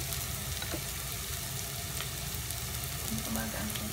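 Garlic sizzles and fries steadily in a pan, a dense crackling hiss with occasional faint stirring clicks and no voices.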